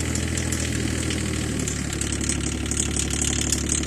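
A tractor engine runs steadily nearby while dragging through slush, a loud continuous mechanical drone with a faint rhythmic chug and no voices.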